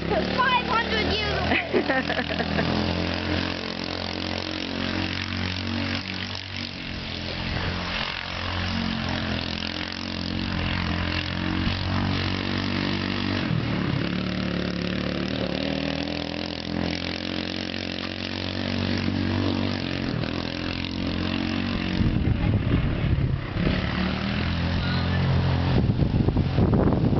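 A homemade go-kart engine runs steadily throughout, a close, continuous mid-pitched idle and rev with a few swells near the end, while voices talk over it.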